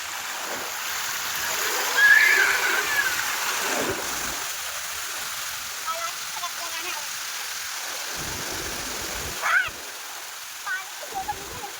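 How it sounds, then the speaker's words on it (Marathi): Sandals are washed in stream water during monsoon weather, giving a constant rush of flowing water with a few sharper splashes, close by and fairly loud. "माझं चप्पल धुण्याचं काम चाललं आहे"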